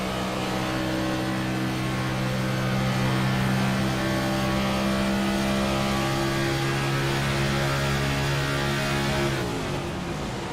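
A race car engine at Las Vegas drones steadily at high revs for several seconds on lap 43 while the driver saves fuel, a constant harmonic roar that shifts pitch near the end as it backs off.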